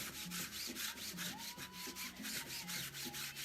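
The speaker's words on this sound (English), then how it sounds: "this kind of sucks down the stencil, and so I can really kind of scrub it" An old plastic cutting board scrubs back and forth over a floor-painting stencil. It gives a rapid, rhythmic rasping close by, with no talking.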